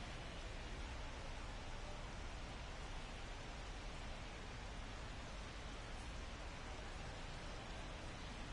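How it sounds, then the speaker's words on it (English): Steady, dense hiss of rain falling at Yankee Stadium in the video game MLB The Show 24, constant and even throughout with no talking. "There's Jeter on a rainy night at the new Yankee Stadium"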